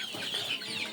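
Farm chickens from a flock of about a hundred birds cluck softly and continuously, a faint, steady murmur of overlapping calls.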